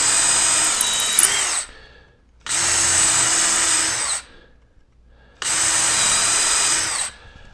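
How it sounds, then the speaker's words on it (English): A power drill fitted with a countersink bit bores into a wooden table leg in three steady, loud bursts of roughly two seconds each, separated by short near-silent pauses. "to drill 3 holes in each one of these sections"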